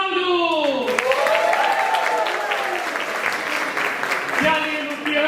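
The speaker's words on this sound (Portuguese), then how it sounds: "uma salva de palmas para o Braulio!" Audience applause for a guitarist being introduced at a Carnival night show at a church venue, steady dense clapping throughout with music tones and cheering mixed in, fairly loud and close.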